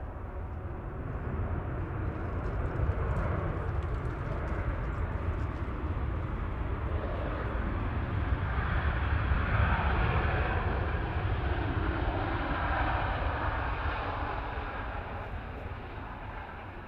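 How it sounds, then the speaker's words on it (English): A Ryanair Boeing 737-800 airliner touches down at an airport, its engine roar swelling gradually and peaking midway before easing off, moderately distant and steady, with no talk. "Ryanair 3227 from Oslo Torp, just touching down now"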